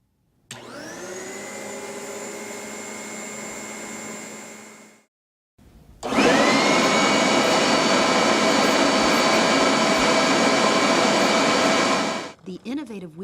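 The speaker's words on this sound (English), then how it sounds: "The Tornado CV30 HEPA filtered vacuum is specifically designed for use in" A Tornado CV30 HEPA commercial upright vacuum cleaner, built for noise-sensitive environments, whirs up to a steady whine, stops, then starts again louder with a broader roar that runs for several seconds before shutting off.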